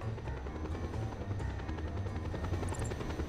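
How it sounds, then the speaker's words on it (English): A helicopter in the action game Just Cause 2 thrums continuously and loudly, its rotor pulsing steadily close by with no talk over it. "Use a grappling hook to grab hold of the chopper, man. Get to the chopper right now."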